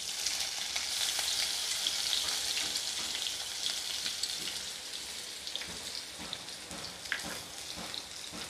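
Finely chopped onions fry in oil with mustard seeds, a steady close sizzle that settles slightly softer over time, dotted with small pops and crackles, and no one speaking.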